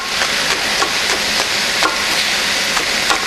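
Chicken and minced scallions frying in a hot wok, a loud steady sizzle close up with repeated scraping stirs of a spatula against the metal.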